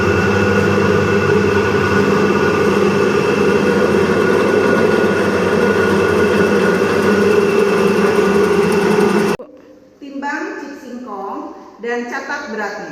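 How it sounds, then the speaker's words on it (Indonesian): A slicer machine cutting cassava drones steadily and loudly with a motor hum for about nine seconds, then stops abruptly, and a voice speaks afterward. "Lakukan proses pemotongan atau pengirisan singkong menggunakan mesin slicer."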